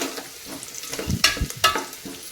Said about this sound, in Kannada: ಇದನ್ನೆಲ್ಲವನ್ನು ಈಗ ಇದಕ್ಕೆ ಸೇರಿಸ್ತೇನೆ ನೋಡಿ ಇದನ್ನೀಗ ನಾವು ಮಿಕ್ಸ್ ಮಾಡಬೇಕಾಗುತ್ತೆ ಚೆನ್ನಾಗಿ